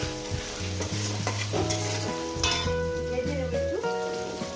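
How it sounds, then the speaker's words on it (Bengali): Onions fry in a pan for chicken curry with a dense close sizzle and stirring scrapes, while steady tonal music plays underneath and no one talks. "এরপর দিয়ে দেবো পেঁয়াজগুলো পেঁয়াজগুলো দিয়ে"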